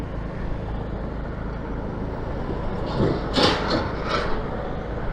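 A Rakuta 150cc Chinese scooter engine idles high with a steady, close, low mechanical drone, joined by a few brief hissy surges near the end.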